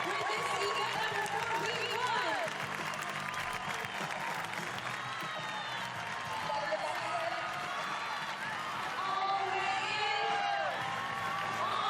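Crowd at the 2019 CrossFit Games women's event cheering an athlete across, a sustained distant roar with whoops and clapping, with commentary voices over it.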